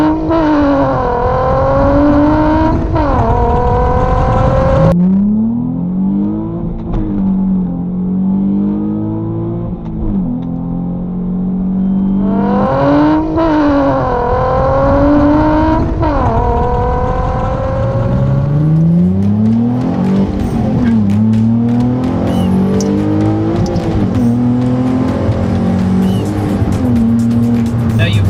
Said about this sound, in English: What you're hearing is the only mod done to this car, and that's the NVIDIA N1 exhaust.